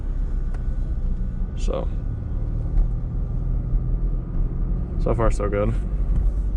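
A 1984 Pontiac Fiero with a manual gearbox pulling away in first gear, a steady low engine rumble and drone from inside the cabin, with someone talking briefly over it.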